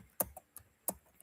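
Typing on a computer keyboard: a few sparse, crisp key clicks, two of them sharper and louder, close and alone in a quiet room.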